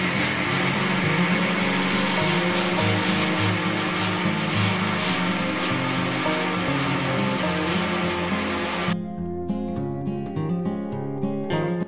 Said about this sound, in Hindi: बस इसको चर्न कर लूँगी मिक्सी में